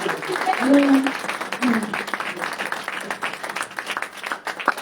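A church congregation applauds in a steady patter of clapping, with voices calling out and a speaker talking over it.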